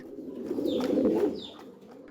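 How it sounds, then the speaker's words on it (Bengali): Domestic and foreign pigeon breeds coo softly in rows of cages at a home pigeon farm, a low, throaty burble swelling and fading over a couple of seconds, with faint higher chirps. "রয়েছে দেশি বিদেশি নানা প্রজাতির কবুতর"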